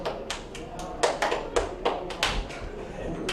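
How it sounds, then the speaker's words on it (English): Sparse, uneven clapping from a small audience honoring race winners at an awards ceremony, with a handful of distinct claps spread over a few seconds rather than sustained applause. "Good clap."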